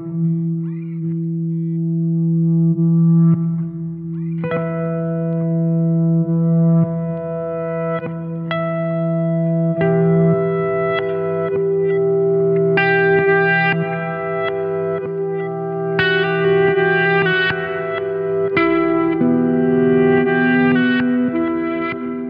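An electric guitar through the reverse effect of a Boss ME-80 multi-effects unit, playing sustained swelling notes and chords that build in brightness over about twenty seconds, loud and alone.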